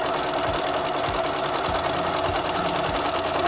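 A sewing machine runs steadily while back stitching to secure a seam, with a rhythmic mechanical stitching patter and regular thumps as it goes back and forward, close and moderately loud.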